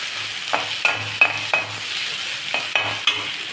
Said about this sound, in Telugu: నెక్స్ట్ ఉల్లిపాయలు కొంచెం వేగిన తర్వాత